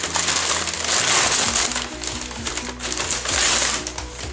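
A large gift box holding four smaller boxes is unwrapped, with loud, close crushing and crinkling of wrapping and cardboard throughout.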